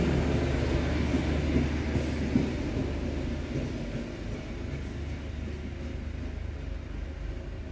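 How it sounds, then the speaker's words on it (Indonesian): A local commuter train pulls out of Gede Bage station with a steady, heavy rumble of wheels and carriages that fades slightly as it rolls on, with no voices. "kereta api lokal berangkat dari stasiun Gede Bage"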